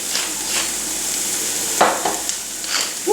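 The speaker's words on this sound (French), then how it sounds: "Vous y mettez, dès qu'elle est chaude, les petits oignons tranchés" Small sliced onions frying in a hot pan, with a close, continuous sizzle broken by a few scraping stirs.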